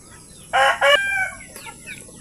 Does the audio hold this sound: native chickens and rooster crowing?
yes